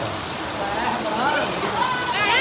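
First monsoon rain falls in a Punjab area, a steady wash of drops on surfaces, with a person talking faintly over it and some high, wavering tones near the end.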